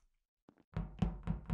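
Doors slamming shut in the game Among Us: a few sharp, heavy thuds in quick succession, loud and close, following a couple of faint softer taps.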